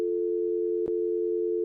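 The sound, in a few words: telephone tone after hanging up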